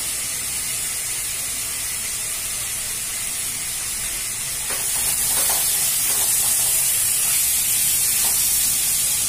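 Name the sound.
ginger garlic chilli paste and turmeric sizzling in pan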